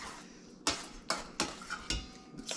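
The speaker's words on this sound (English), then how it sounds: "I'll just stir all this up in the sauce" Utensil stirring pieces of duck breast and tenderloin in sauce in a bowl, a handful of sharp scraping clinks at irregular intervals, close and fairly loud, with no talking.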